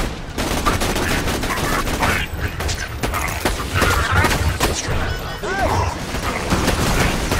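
Video game shootout with rapid, dense gunfire crackling continuously and loud, mixed with mechanical clicks and clanks, while players talk over the shots.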